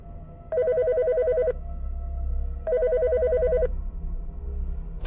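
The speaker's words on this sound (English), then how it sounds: "It's ringing." A telephone rings in a video game, two long electronic ring bursts separated by a pause, loud and clear with no talking.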